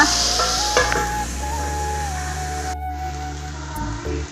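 Chopped chayote (chow chow) sautés in a pan, sizzling and scraped by a stirring spoon, loud and close at first before the sizzle drops away abruptly partway through.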